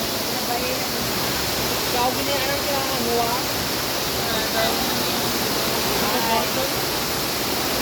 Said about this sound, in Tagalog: This is the true falls.